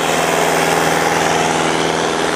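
A tractor engine runs steadily at a village tractor-pulling contest during a rural sports fair in Akalpur, its low rhythmic throb loud and close with no talk over it.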